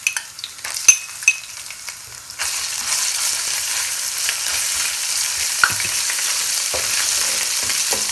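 Ground ginger and garlic paste hit hot onion masala for a kofta curry, with a few light clinks and then a loud, steady, close sizzle that holds to the end.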